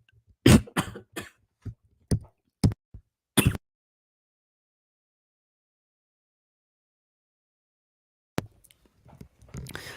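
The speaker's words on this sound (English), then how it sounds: "Sorry, I just had a cough." A few sharp coughs in quick succession close to the mic, then a long silence before faint shuffling noises return near the end.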